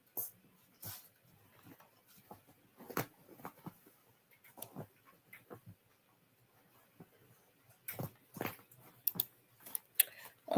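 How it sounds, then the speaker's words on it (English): Wrapping paper crinkles and rustles close by in scattered bursts of crackling, with quiet gaps between the handling noises. "I know y'all can hear the paper and stuff"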